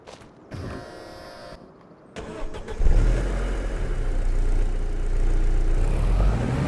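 Car engine in Farming Simulator 25 cranks over and catches, then settles into a steady droning run as the vehicle pulls away, loud and close with rising engine note.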